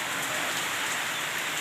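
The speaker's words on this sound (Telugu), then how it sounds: "వాన వస్తుంది బిడ్డ" Rain pours down with wind during an evening downpour, a loud, dense, unbroken hiss of drops striking surfaces close by, steady from start to finish with no voices.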